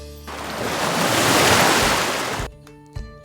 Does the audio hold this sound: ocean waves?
yes